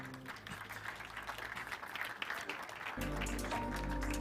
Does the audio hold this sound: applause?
yes